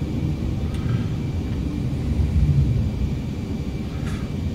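An F-22 Raptor jet's engine sends a steady low rumble through a flight simulator landing approach, with a brief spoken callout over the continuous drone.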